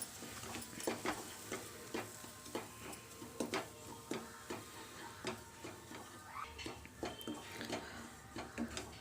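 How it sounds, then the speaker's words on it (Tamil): Semolina (rava) toasting in a pan with repeated light scraping and stirring strokes, ticking clicks of a spoon against the metal over a soft, low sizzle, close and fairly quiet with no voices. "இப்போ அதுலேயே ரவையை போட்டு நல்லா கோல்டன் கலர் வர வரைக்கும் ஃப்ரை பண்ணிக்கலாம்."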